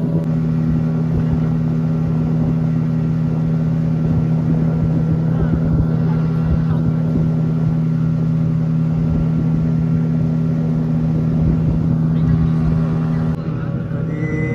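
Motorboat engine droning steadily and close with a strong constant hum, a wooden boat being readied for a night trip near Devgad, continuous throughout with faint background activity.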